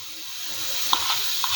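Masala paste made with turmeric, coriander and chili powder soaked in hot water goes into a sizzling Kerala catfish curry, a soft steady sizzle with a few faint liquid plops and stirring touches, quiet and brief.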